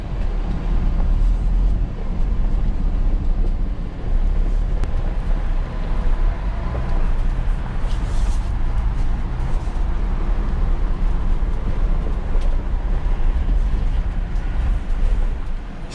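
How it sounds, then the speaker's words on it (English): Inside a Ford Bronco driving off-road over rocks with the window down, a steady, heavy rumble of wind and engine fills the whole stretch, with bumps and crunches blended into the continuous roar. "Let me roll the window down to give you a sound of driving through rocks as well."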